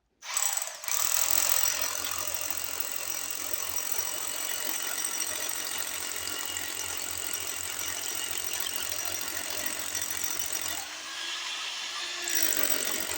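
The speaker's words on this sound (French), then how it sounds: "je vais tenter de faire des trous pour pouvoir l'affaiblir et le péter au marteau-piqueur après" SDS Max rotary hammer drilling holes into a large block of concrete with limestone inside, a continuous loud, even hammering drone that runs steadily and shifts briefly near the end.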